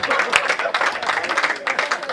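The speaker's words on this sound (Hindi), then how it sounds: "भैया तालियां बज गई, सबने हंस लिया।" Audience applause and clapping at a Hindi hasya kavi sammelan comedy poetry gathering, a steady broad wash of many hands from a close, loud crowd, mixed with cheering voices.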